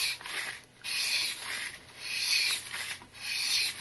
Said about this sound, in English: Just place the sandpaper underneath, apply a little pressure, and just draw it.